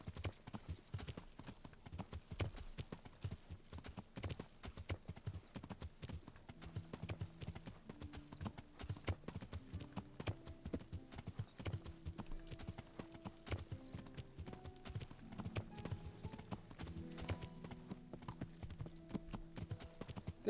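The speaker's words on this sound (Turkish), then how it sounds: "At sürmek aslında böyle çayırda bayırda zevkli de işte" Horse hooves gallop steadily across open meadow in the video game Kingdom Come: Deliverance, a continuous rapid clip-clop carried under layered game music throughout.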